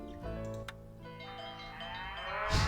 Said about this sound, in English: Hear that? That's the sound of happy cattle, healthy cattle